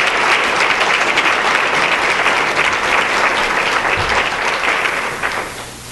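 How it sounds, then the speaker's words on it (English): An audience applauds a speaker at a women's leadership event, a loud, dense round of clapping that holds steady before fading out in the final second. "So one more round of applause for Sandra Grace."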